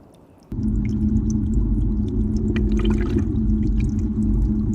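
Steady rush of water over an Airstream Argosy trailer's window starts suddenly and keeps flowing, a continuous splashing wash with faint drips on top.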